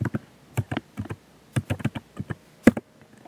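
A password is typed on a computer keyboard in short, irregular bursts of crisp key clicks, close and fairly quiet, with brief pauses between groups of keystrokes.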